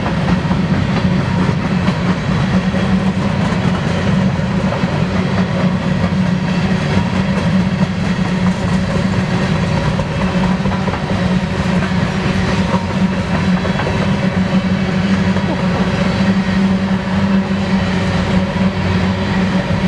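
BNSF Railway engine 5782 hauls a long eastbound double grain train through Spokane Valley, Washington, producing a loud, steady rumble and rolling rail noise that holds unbroken throughout, with no voices.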